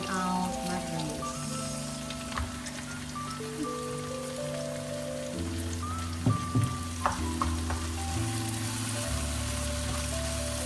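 Mushrooms hit a hot pan for a plant-based creamy Alfredo pasta and fry with a continuous close sizzle and scattered spattering pops, under a sustained background hum of musical tones.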